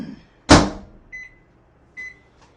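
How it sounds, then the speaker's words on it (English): A microwave oven heating a fruit cobbler: a loud door clunk, then two short electronic beeps a moment apart and a faint final click, heard close with no talk. "We're going to go into the microwave."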